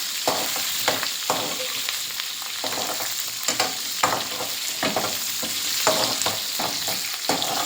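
Onions sautéing with garlic in a pan for ridge gourd masiyal: a loud, continuous sizzle punctuated by repeated stirring scrapes and spatula clacks, with no talking.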